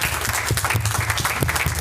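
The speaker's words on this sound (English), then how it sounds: "And so, folks, round of applause for Wayne Rosenfeld" Audience applause at a community board monthly meeting, steady dense clapping from a roomful of people, moderately loud and close throughout.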